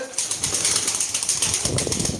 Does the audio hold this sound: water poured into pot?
no